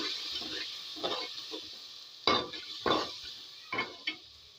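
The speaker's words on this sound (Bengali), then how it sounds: "দিয়ে দেবো একটু হলুদ গুঁড়ো আবার একটু নাড়াচাড়া করবো" Spices with turmeric powder are stirred in a frying pan, producing about half a dozen distinct scraping strokes of a spatula over a soft, continuous sizzle.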